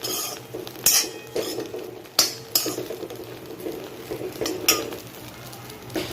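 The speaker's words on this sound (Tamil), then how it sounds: "நல்ல கோல்டன் ப்ரௌனிஷ் ஆகிற வரைக்கும் அதை வந்து நம்ம ஃப்ரை பண்ணிக்கலாம்" Bread crumbs fry in ghee for bread halwa, a soft sizzle under repeated sharp clinks and scrapes of a spoon stirring in the pan, close and fairly loud.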